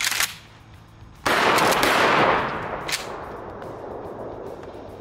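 A Mossberg 88 Security pump shotgun fitted with a rail-mounted shell carrier fires one booming blast with a long rolling echo outdoors, preceded by the fading tail of an earlier shot.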